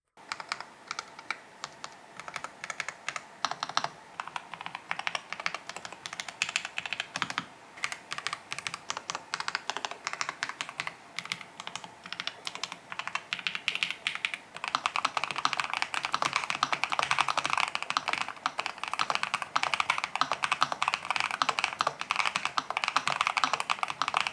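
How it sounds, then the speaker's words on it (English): Continuous typing on two low-profile mechanical keyboards, the Lofree Flow 2 and NuPhy Air75 V3, a dense steady clatter of close key presses that grows louder and busier in the second half, with no talking. "here's a typing test for each keyboard so you can see and hear how these actually type"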